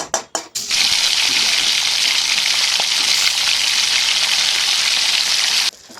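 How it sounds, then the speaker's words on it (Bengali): Hilsa fish frying in mustard oil for doi ilish gives a loud, steady sizzle that starts after a few short bursts and runs unbroken for about five seconds before dropping away. "এই মাছটা একটু ভেজে নেব এপিট ওপিট করে নেব"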